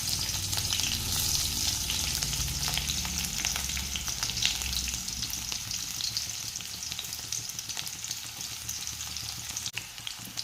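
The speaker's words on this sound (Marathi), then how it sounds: "तेल गरम झालेलं आहे आणि आपण आता याच्यात ना हा कांदा घालणार आहे सगळ्यात पहिल्यांदा" Chopped onion sizzles steadily in hot oil in a home kitchen, a loud, dense, continuous crackle with occasional stirring clinks, no voices.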